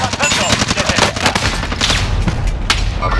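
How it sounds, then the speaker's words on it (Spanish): Heavy sustained gunfire in the video game Modern Warfare, loud machine-gun bursts and booms filling the whole stretch without pause. "Están disparando."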